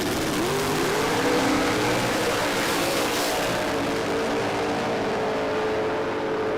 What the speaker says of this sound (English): Let's just listen to the engines.